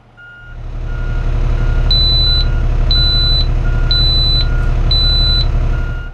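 Refuse truck reversing with a loud steady diesel rumble and a regular series of about four high, sustained backup beeps, close by and without talk.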